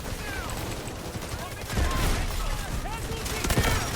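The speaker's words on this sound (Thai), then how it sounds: "ยิงโดยที่ไม่ต้องรู้ว่ายิงโดนหรือไม่" Dense gunfire in the video game Delta Force forms a continuous rattling barrage with rapid bursts and heavier thumps, and grows louder midway through.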